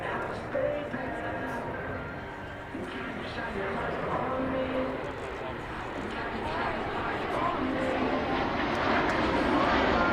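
USAF C-17 Globemaster III transport jet passing during an air show demo, a continuous broad engine roar that swells gradually while an announcer talks over it.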